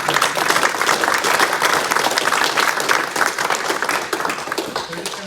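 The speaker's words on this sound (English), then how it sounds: "A round of applause for our Mayoral Candidates." A public meeting crowd claps steadily for Christchurch's 2025 mayoral candidates, a dense, sustained round of applause filling the room for about five seconds and easing slightly toward the end.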